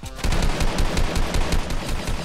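Automatic gunfire from a weapon in the mobile game Fortnite Mobile, a rapid, steady stream of loud shots with no pauses.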